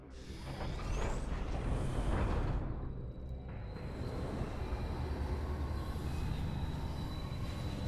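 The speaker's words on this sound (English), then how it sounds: "This looks like a train to an unknown area." A train rolls along in the video game Metroid Prime 3, a loud continuous rumble and clatter with a hissing release partway through, then a sustained rolling drone with a faint high whine.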